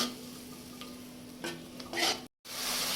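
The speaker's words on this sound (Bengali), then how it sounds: "এখন আমি সব কয়টা মশলা ভালোভাবে কষিয়ে নিব" Spices sauté quietly in oil in a pan for chicken bhuna, giving a soft sizzle with a few light stirring scrapes and a brief clink near the end.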